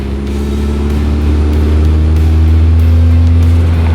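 A modified Mk4 Volkswagen Jetta with a big turbo spools up, a steady loud engine drone with a rising whine held throughout, close by and without speech.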